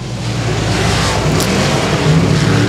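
Race cars roar down the back straightaway of the Boothill Speedway dirt track on the final lap of a heat race, a loud, sustained engine drone with a brief high whine near the middle.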